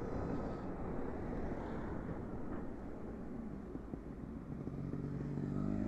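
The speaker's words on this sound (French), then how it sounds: "C'est une motocross, au début j'ai cru que c'était un vélo électrique, jusqu'à que je l'entende." A motocross motorcycle passing on a road, heard as a steady, fairly faint low engine drone under a constant rumble, with no clear peak and no speech.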